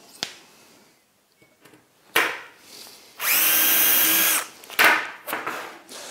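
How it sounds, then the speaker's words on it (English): A power drill bores a hole through a workpiece held in a UJK Parf guide system: short bursts of drilling, then one loud sustained run of about a second near the middle, followed by a few brief trailing bursts and handling clicks. "identify the hole I need, and I can drill."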